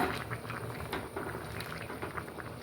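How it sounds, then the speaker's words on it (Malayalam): A pot of curry boils on the stove, giving a soft, continuous bubbling and popping at close range. "അപ്പോൾ കണ്ട നന്നായിട്ട് തിളച്ച് വന്നിട്ടുണ്ട്"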